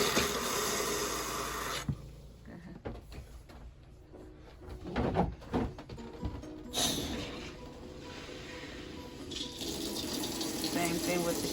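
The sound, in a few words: water running from RV faucet with red antifreeze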